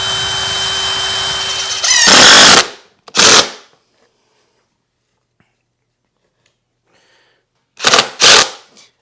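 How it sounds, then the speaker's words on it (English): A power driver drives screws down into a shop shelving bracket in two separate bursts, each a pair of loud, short whirs, with near-silence in between. "I'm just going to screw it down."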